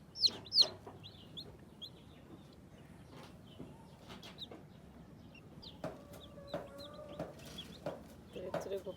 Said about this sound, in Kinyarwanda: ba bantu bashaka ku nkoko z'umukara, urabona ko nazivukishije ku bwinshi.